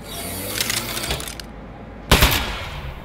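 Gunfire from a weapon in the video game Aperture Desk Job, bursts of rapid crackling shots, loud and close, with a brief lull before a stronger burst.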